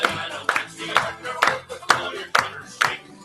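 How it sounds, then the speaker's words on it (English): Several people clap in a steady beat, about two claps a second, along to a lively Irish folk song, with the music and voices running underneath throughout. "So all they know is we're just clapping for no reason at all."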